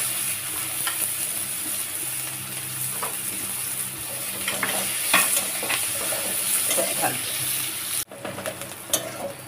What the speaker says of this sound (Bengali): এরপরে পেঁয়াজগুলো দিলাম